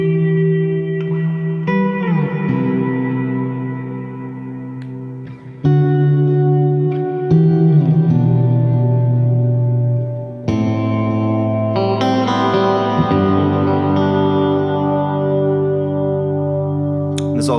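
Ambient worship-style electric guitar through a big, lush reverb, chords ringing out and blooming into long shimmering tails, each new strum layering over the decaying wash at steady volume with no talking.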